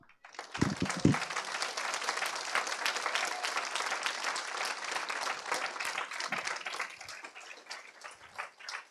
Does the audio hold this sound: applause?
yes